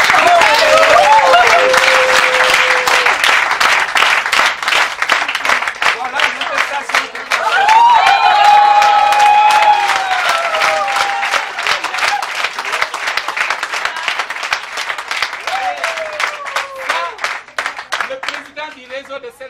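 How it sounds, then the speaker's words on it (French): A hall audience at a certificate presentation breaks into sustained applause, with individual claps distinct and the sound thinning out toward the end, while a presenter speaks over it. "Applaudissez, applaudissez"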